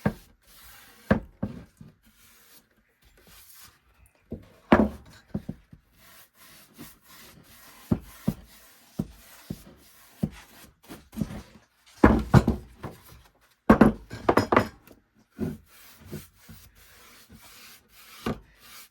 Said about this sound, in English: Just gonna dip my brush, and I'm gonna start by going around the outside.